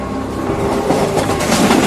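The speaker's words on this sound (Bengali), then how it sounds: "হুড়মুড় করে ছুটে যাওয়া ট্রেনটা থেকে থেকে কেমন যেন নিঃশব্দ হয়ে যাচ্ছে।" A rushing train roars steadily through a spooky midnight audio story, dense rumbling and rattling with faint clickety-clack, loud and close, no voices over it.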